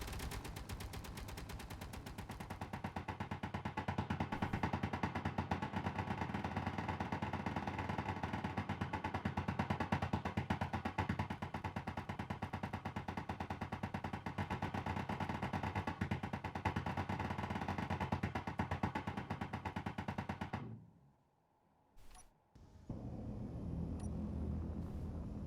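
Turrets pour sustained, dense rapid fire at a Borg ship in a Star Trek space battle game, a loud continuous barrage with rumbling booms that cuts off abruptly near the end before fainter sounds resume.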